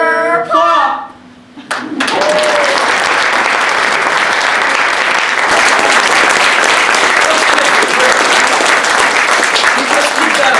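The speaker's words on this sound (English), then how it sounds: "Let's keep that applause going" Sustained audience applause fills the room after a brief opening of talk, a dense steady wash of many hands clapping at close range for several seconds.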